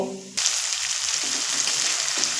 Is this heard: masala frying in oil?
yes